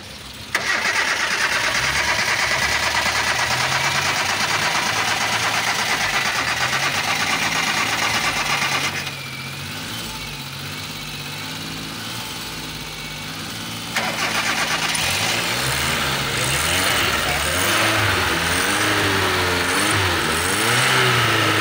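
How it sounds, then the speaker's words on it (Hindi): A car engine cranks and catches after a jump start with jumper cables, then runs loud and close: a steady idle, a quieter stretch, and renewed revving at the end, with no talking. "अब हम गाड़ी स्टार्ट करेंगे"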